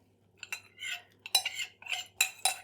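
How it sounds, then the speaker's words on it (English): Crushed digestive biscuits being mixed with melted butter in a bowl for a lemon meringue pie base: a run of scraping, clinking spoon strokes in short bursts, fairly close, with no talking. "Let's just give it a little mix in."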